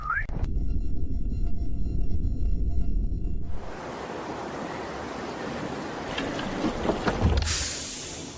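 A strong hot wind roars steadily across open farmland in a broad, rushing wash. A steady high tone runs through the first half, and a brighter hiss cuts in near the end.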